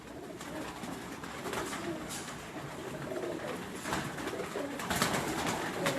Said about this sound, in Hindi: घर के कबूतर, ओरिजिनल कबूतर